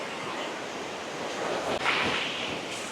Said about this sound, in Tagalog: yung sounds ng dagat, iba rin